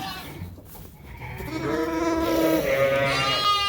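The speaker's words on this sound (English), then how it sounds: "There's a sheep that already knows the routine." A sheep on a farm during shearing day bleats in a long, wavering, nearby cry that rises and holds, with soft rustling beforehand.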